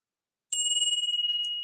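A healing bell is struck once, ringing out with a clear, sustained metallic tone that shimmers steadily and then fades quickly after about a second, alone in otherwise silent surroundings.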